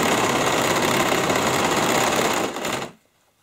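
A sewing machine runs steadily, stitching a top stitch through denim on a jeans bag, a close and continuous mechanical whir that slows briefly before stopping abruptly near the end.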